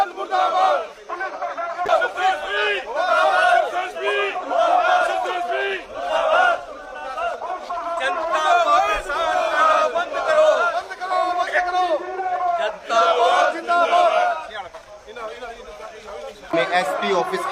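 A crowd of Congress protesters outside an SP office chants rhythmic anti-police slogans in unison, loud and close, with shouted lead calls and group responses repeating throughout.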